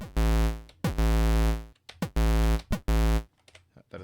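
Commodore 64 SID chip tones from SID-Wizard: loud buzzy square-like notes held then cut, with short release tails and pitch-sliding blips between, a choppy repeating pattern of sustained bursts and gaps.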